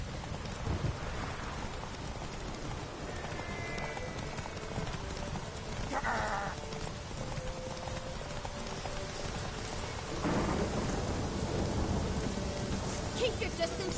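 A horse gallops in a race in the video game Witcher 3, its hooves pounding in a fast, steady rhythm. Rain and rumbling thunder run beneath the hoofbeats throughout.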